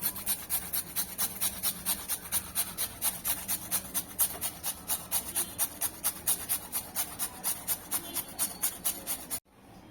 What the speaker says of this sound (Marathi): हे बटाटे मी सोलून घेतलेले आहेत तर अशी छोटी किसणी घ्यायची आहे आणि त्याने किसून घ्यायचे आहेत